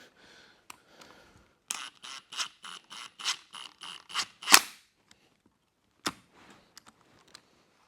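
Power tool snugging engine block bolts back up on a 1949 Willys truck on its weakest setting, a quick series of sharp rattling bursts followed by a louder hit and a couple of isolated clicks, close and otherwise quiet.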